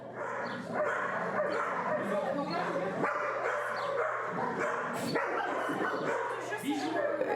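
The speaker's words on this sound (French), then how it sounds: "des chiens qui aboient" Several dogs at an animal shelter bark, yip and whimper in a reverberant kennel space, a continuous overlapping chorus with sharper barks breaking through, while a voice speaks beneath the din.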